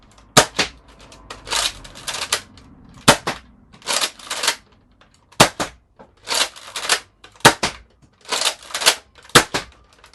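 Nerf Elite Retaliator foam dart blaster firing a run of six shots, each a sharp snapping crack followed by a quick mechanical priming clack, spaced about every one to two seconds, close and loud with no talking.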